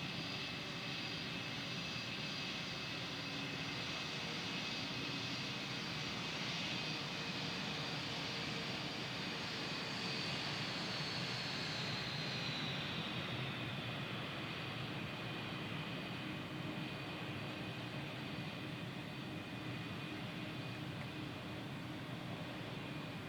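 Airliner landing at JFK in Microsoft Flight Simulator 2020, heard as a steady, loud engine roar with a high whine that slowly drops in pitch, continuous and without talk.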